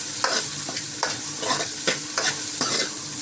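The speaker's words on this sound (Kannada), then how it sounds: "ಈಗ ಇದನ್ನು ಸ್ವಲ್ಪ ಫ್ರೈ ಮಾಡ್ಕೊಳ್ಳೋಣ" Green chillies and chopped onion frying in a pan for sambar, a loud, steady sizzle broken by regular scraping stirs about every half second, close up with no talking.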